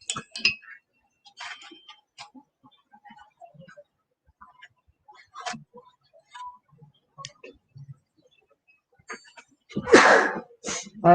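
A person sneezes once, a loud, close burst near the end, during an indoor painting lesson. Before it come sparse soft clicks and small handling noises.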